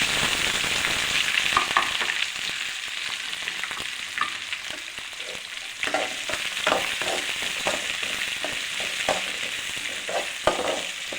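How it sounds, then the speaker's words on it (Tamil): Garlic, onion and curry leaves fry in hot oil with a steady close sizzle, broken by frequent scraping stirs of a spoon. "இதை நல்லா வதங்கணும்."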